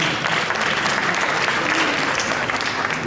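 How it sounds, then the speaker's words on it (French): Loud, continuous applause from an audience at a TVthon evening show featuring a mentalist, a thick, even wash of clapping lasting several seconds. "On peut l'applaudir."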